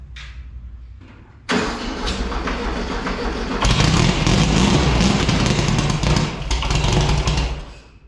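Engine with a freshly flooded carburetor sputters and then catches, running loud and rough close by with a heavy low rumble and uneven surges after a quiet start.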